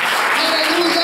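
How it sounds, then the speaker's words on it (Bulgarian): A church congregation at a youth conference claps loudly and continuously, a dense wash of applause beneath a voice shouting in praise. "Айде да ръкопляскаме мощно на Господа."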